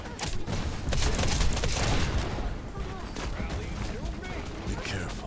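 Dense, continuous gunfire in the video game Wild Assault, a loud sustained fusillade of overlapping shots and thuds with battle noise throughout and voices faintly mixed in.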